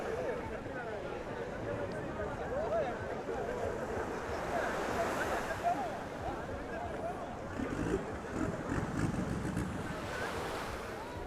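Surf washing steadily onto Freedom Beach in Phuket, a continuous broad wash of breaking waves with some wind buffeting the microphone, moderately loud throughout.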